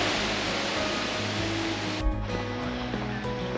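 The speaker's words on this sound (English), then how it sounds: "So this is the Waimea Waterfall." Waimea Waterfall in Waimea Valley, Hawaii, swollen and silty after recent rain, pours with a continuous broadband rush. A few faint tones and a brief thump sit over the steady water, with no talking.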